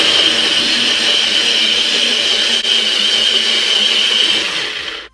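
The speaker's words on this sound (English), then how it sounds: "I prefer to blend my ginger." A NutriBullet blender runs steadily, blending ginger with water: a loud, continuous whirring roar that holds level for about five seconds, then cuts off at the end.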